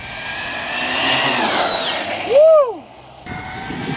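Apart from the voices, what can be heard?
fast RC car driving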